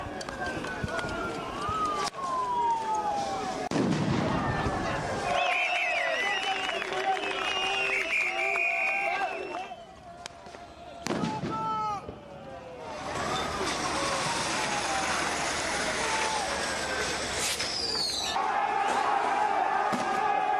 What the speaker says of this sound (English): Tear gas keeps being shot at the protesters.